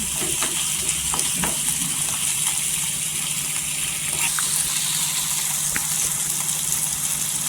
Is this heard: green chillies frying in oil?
yes